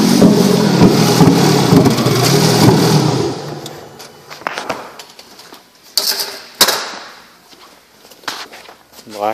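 A 2011 Kia Optima SX engine runs with a loud, rough roar for the first few seconds, then drops to a quieter idle broken by scattered clicks, thumps and shifting noises up close.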